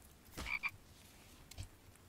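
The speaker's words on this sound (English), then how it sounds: "Come here, frog." A couple of short croaks from a frog in a survival video game, fairly faint against a quiet background, one near the start and a softer one later.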